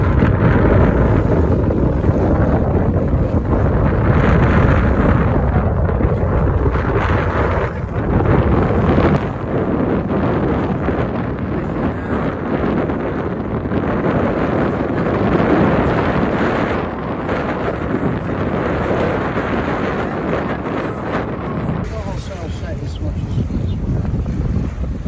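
A sailboat racing in strong wind during the 2021 Round the Island Race near the Needles, with a constant loud roar of wind battering the microphone, rushing water and occasional gusts, voices faintly mixed in.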